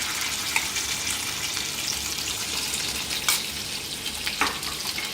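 Masala frying in a hot pan, a dense, steady sizzle close up with a few sharp crackles and spatters, no voices over it.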